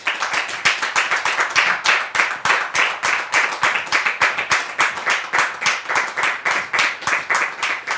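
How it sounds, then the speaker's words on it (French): Audience in a French-speaking event hall applauds, dense steady clapping from many hands continuing evenly throughout without fading, no voices over it. "de recevoir ici Séraphin sous vos applaudissements."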